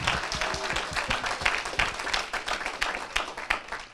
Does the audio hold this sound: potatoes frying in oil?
no